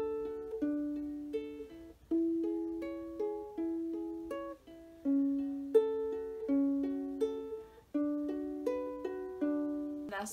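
Ukulele fingerpicked in a repeating pattern through chord changes, clear plucked notes ringing and decaying in a steady rhythm, close and quiet with no talking.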